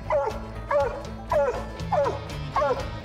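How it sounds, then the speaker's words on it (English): A raccoon hunting hound gives a steady series of five loud, close track barks, evenly spaced with a bawling, drawn-out quality, set against a low background hum. "hear the difference in her uh, track bark there"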